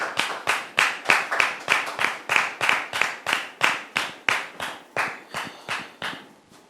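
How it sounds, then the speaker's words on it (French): A studio audience greets an arriving guest with rhythmic clapping, evenly spaced sharp claps in unison, about three per second, slowly fading toward the end. "Public, merci de le recevoir sous vos applaudissements"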